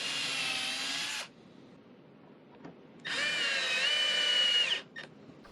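A power drill drives screws into thin wooden stops for cutting-board clamps, two loud, close whirring bursts separated by a short quiet gap.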